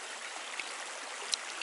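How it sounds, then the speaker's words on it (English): Small creek in Cache Creek, Colorado, running beside a campsite, a steady broadband rush of water trickling and gurgling, faint and continuous with no voices. "this isn't really a river, it's more like a little creek"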